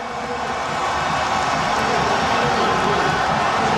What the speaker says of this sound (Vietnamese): Anh xứng đáng được nhận những tràng vỗ tay.